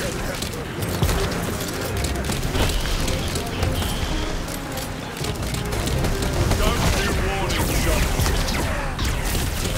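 Dense, continuous gunfire and explosive blasts from the video game Tiny Tina's Wonderlands fill the scene, with a person talking over the clatter throughout.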